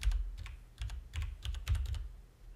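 Keys tapped on a computer keyboard while entering a search in the Windows search box, a quick irregular run of close, light clicks in bursts, with no talking.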